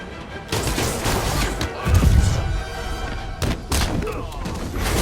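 Dense, muffled bursts of gunfire and heavy thuds fill a horror action video game battle, a loud continuous barrage with faint voices mixed in.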